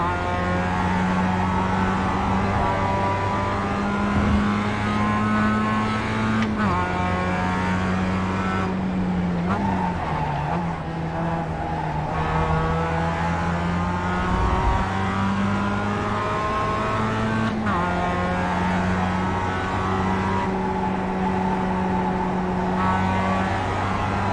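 A Mazda MX-5 race car's engine in iRacing at Road America, a loud, steady near drone that holds its pitch with brief dips and shifts, running alone throughout.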